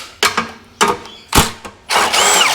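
A power drill works bolts out of a lawn mower's pull-start housing in several short whirring bursts, each a second or less, with a longer, steadier run to finish, close by and fairly loud.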